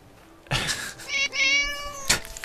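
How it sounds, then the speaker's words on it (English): A cat in the video game Neverwinter Nights 2 lets out a loud, drawn-out, complaining meow, preceded by a short sharp sound and followed by another brief, noisy burst. "That does not sound like a cat that's being happily pet."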